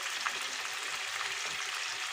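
Garlic and chicken wings frying in a pan for garlic chicken wings, a steady close hiss and crackle of hot oil with small pops scattered throughout.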